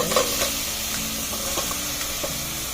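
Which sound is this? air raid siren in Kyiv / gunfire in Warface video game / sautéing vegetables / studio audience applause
sautéing vegetables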